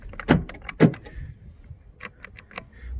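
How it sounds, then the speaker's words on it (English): Power door locks on a diesel Toyota Corolla actuating, two heavy thunks close by, followed by a scatter of lighter clicks and small mechanical rattles inside the car. "Those being power door locks,"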